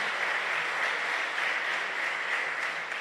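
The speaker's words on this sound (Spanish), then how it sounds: "démosle palmas al Señor" A church congregation at a pastors' retreat claps steadily in dense, continuous applause, sustained and even for the whole stretch with no voices breaking through.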